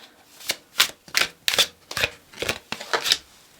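Tarot cards being shuffled by hand, about eight crisp riffling bursts in a steady rhythm, close and clear with no talking.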